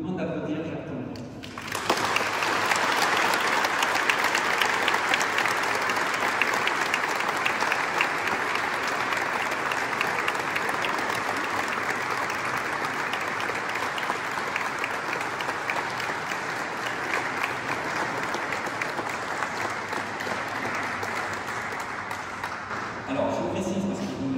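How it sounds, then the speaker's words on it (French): Sustained applause from a large crowd, steady and dense, starting abruptly and continuing for over twenty seconds before tapering at the end. "Je vous demande d'applaudir Jacques Tonneux."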